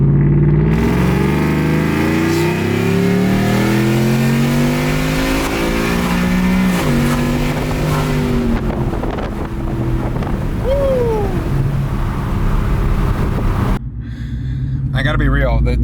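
A lowered pickup truck engine in sport mode roars and revs up through several rising gear pulls, loud and close, with wind buffeting the microphone and a voice speaking over it.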